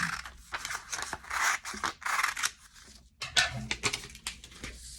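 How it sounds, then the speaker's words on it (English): Scissors snipping folded paper to shape a snowflake, a close series of crisp, quick cuts and rustles in irregular bursts. "So you just make a point and then cut the extra from the bottom."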